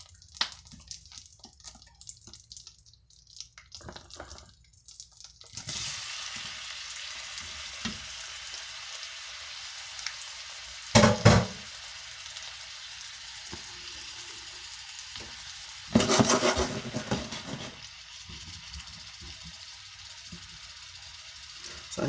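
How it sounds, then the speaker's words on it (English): Shrimp sautéing in hot butter in a pan: a steady, close sizzle that swells into loud bursts of spitting and crackling as the shrimp are stirred, then settles back to a lighter hiss. "So I'm going to go ahead and saute these up"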